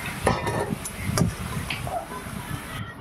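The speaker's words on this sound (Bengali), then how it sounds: "এবার আলুগুলোকে হচ্ছে ঢেলে নিচ্ছি" Fried potatoes tumble out of a pan with a few sharp clinks of metal and a soft rustle. The sounds come close and brief, with a faint sizzle underneath.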